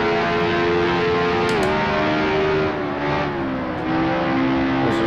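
A 1960s Formula 1 car races around the Isle of Man TT course in Assetto Corsa, its engine howling loud and steady at high revs with slight pitch dips and gear changes, heard alone and close.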